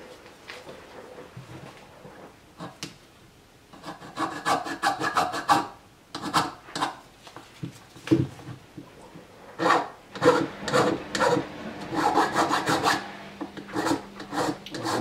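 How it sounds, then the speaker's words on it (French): A metal file rasps across an aluminium Peugeot 103 moped crankcase while a Moriyama ignition is being fitted, giving close, repeated scraping strokes in irregular bursts with short pauses between them. "là je vais limer pour que ça fasse propre"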